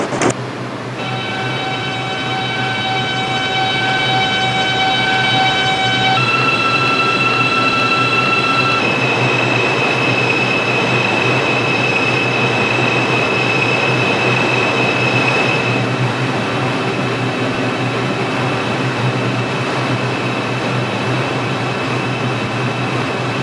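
A New York line 6 subway train in a mobile simulator game hums and rumbles steadily throughout, with sustained tonal whines that shift pitch as it runs along the track.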